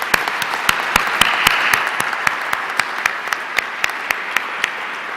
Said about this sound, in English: let's give the committee a round of applause for their outstanding job